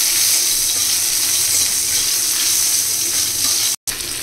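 Tomato goes into a hilsa fish curry frying with mustard and green chili, setting off a loud, continuous hissing sizzle close up, with one abrupt brief dropout near the end and no talking.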